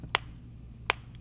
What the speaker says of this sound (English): let me kick on my metronome here